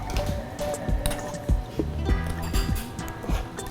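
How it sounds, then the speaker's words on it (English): Shrimp sauce being stirred around in a pan, thick wet squishing and slurping with soft spoon taps in an irregular rhythm, close and fairly quiet. "Stir it around."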